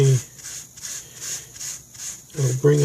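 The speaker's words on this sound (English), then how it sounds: "I'll just do this the same way I did the other one with the steel wool, and just rub it a little bit" Steel wool rubbed over the surface of a wooden model building wall during weathering, a soft, steady scratchy rubbing in repeated strokes, heard close up.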